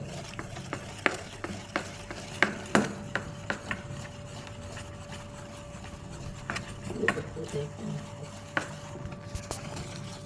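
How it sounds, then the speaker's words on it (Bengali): Moong dal batter being whisked with a little water in a bowl, giving scattered quiet stirring taps and scraping clicks at an uneven rhythm over a faint steady hum. "একটু জল দিয়ে দেব, ব্যাস। ফেটিয়ে নেব।"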